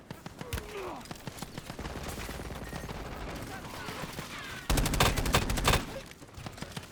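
Gunfire rattles through a chaotic Call of Duty battle as a mix of scattered shots and rapid automatic bursts. A dense, loud volley swells near the five-second mark, while a voice talks faintly underneath.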